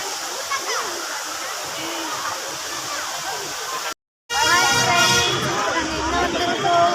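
Thiruparappu waterfall near Kanniyakumari pours with force, a loud, steady roaring rush of water with a crowd murmuring beneath it. The sound cuts out briefly midway, then returns just as strong.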